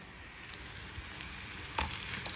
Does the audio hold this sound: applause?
no